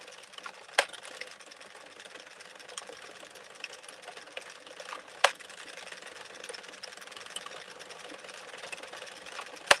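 Circular sock knitting machine cranked very fast with yarn, giving a steady rapid mechanical clatter with a few sharper clicks, moderately faint and continuous with no talking.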